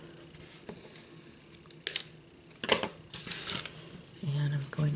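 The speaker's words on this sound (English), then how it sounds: "I'm going to cut this off 1 pearl short" Scissors snipping through a strand of pearls for a Victorian keepsake Christmas ornament, a few sharp close-up clicks and rustles with handling noise between cuts.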